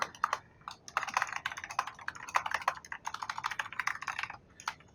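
Close, steady keystrokes on a computer keyboard while typing an email signature in Outlook, a fast irregular patter of clicks with short pauses and no voices.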